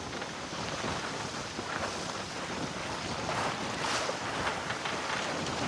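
Steady wind rushes across a sailboat near the Golden Gate as waves wash over the bow, a constant loud roar of gusts and water with no voices.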